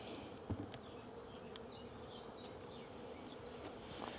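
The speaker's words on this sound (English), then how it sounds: "all these bees are outside waiting to get in" Honey bees buzz outside a hive while waiting to get in, a quiet steady hum with individual bees droning past close by, no talking.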